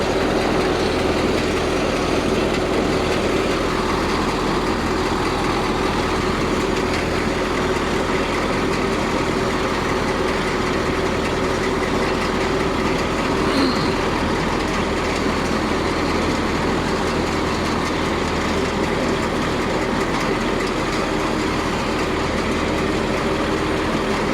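A tractor-driven RXYK-9010 round baler drones steadily as it wraps a bale, with constant rumbling engine noise and faint mechanical rattling throughout and no voices.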